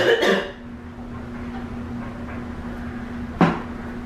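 A single cough bursts out near the start, followed by a quieter throat-clearing sound a few seconds later, both close to the microphone over a steady low hum in an early-morning kitchen while pork chops and red potatoes are prepared.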